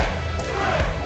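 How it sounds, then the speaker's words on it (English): A wrestling crowd at a Brick Savage vs KC Kr'eme match chants "Brick" in a loud, close, dense roar, with a dull thud partway through. "And this crowd knows it. As they chant Brick."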